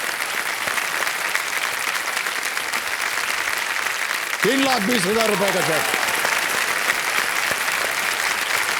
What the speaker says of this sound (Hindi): और ताली बज जाए जोरदार.